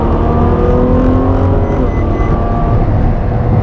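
A 2015 Ferrari F12 Berlinetta V12 engine roars loudly and steadily, a deep sustained drone with rising harmonic tones as it accelerates, close and dominant with no talking.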